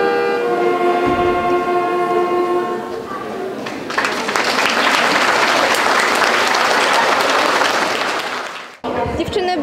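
Audience applauding after a majorette performance at a municipal culture centre, loud, dense clapping that takes over after a musical passage and stops abruptly near the end.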